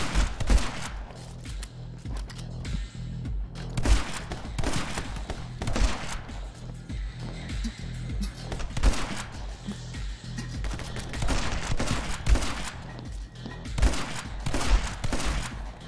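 Rapid, repeated shotgun blasts from the My Friend Pedro video game, loud, dense bursts firing almost continuously with short gaps over a low rumbling game soundtrack.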